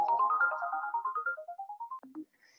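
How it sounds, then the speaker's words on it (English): A RingCentral soft phone plays a rising electronic tone sequence in rapid repeating pulses, then a short lower beep and a faint high tone, clean and alone. "it'll automatically launch your RingCentral soft phone and dial the number"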